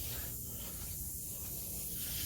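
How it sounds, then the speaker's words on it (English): A steady, broad hiss of a lawn sprinkler system spraying water continuously, fairly close and even in level, with no other sounds on top. "this is my sprinkler system that's going"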